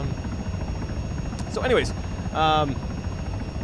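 A helicopter flies with a heavy sling load in the video game Arma 3, a steady rotor and engine drone running throughout while someone talks over it in two short phrases.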